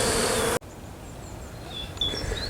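Bees foraging on flowering trees in early spring outdoors, a faint buzzing after a short burst of louder noise, with occasional bird chirps in the background.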